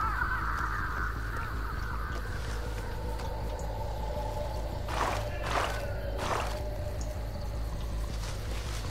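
Crows in the Dead by Daylight video game, set in a swamp map, let out three sharp caws in a row midway through, over a constant ambient game drone.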